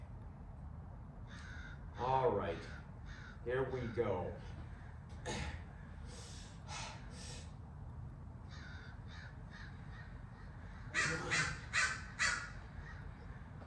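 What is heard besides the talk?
crows cawing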